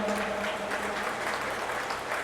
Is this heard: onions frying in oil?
no